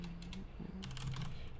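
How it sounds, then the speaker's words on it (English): Quick bursts of typing on a computer keyboard cluttered with objects in front of it, close clicking keystrokes in two short runs over a low steady hum, no voices. "It's hard to type with all the stuff in front of the keyboard."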